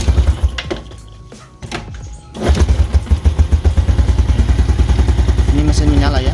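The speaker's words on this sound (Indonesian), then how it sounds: "Ini mesin menyala ya." A kick-started motorcycle engine sputters to life, then settles into a steady, loud idle with a fast, even chugging rhythm that keeps going to the end.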